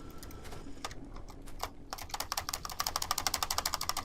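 Spacebar presses on a computer keyboard fire a gun in Factorio: scattered taps at first, then a fast, steady run of crisp clicks close to the microphone.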